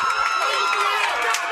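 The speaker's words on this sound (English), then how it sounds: "And you can hear the Doral crowd" Crowd at a Doral Academy high school softball game cheering after a game-tying home run, a bright, sustained roar of shouts and high-pitched voices from the stands.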